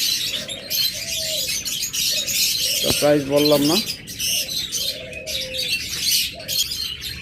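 Pigeons in a loft coo in low, rolling calls amid scattered chirps, while someone speaks briefly over them at close range.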